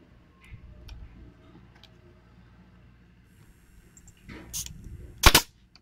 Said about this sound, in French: Ensuite, je viens prendre mon petit pistolet à pointe.